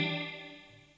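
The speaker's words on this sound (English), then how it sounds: "Hear how the reverb dies out quite quickly." A single electric guitar chord rings through a reverb effect set to a short decay time, starting loud and fading quickly, with no voices.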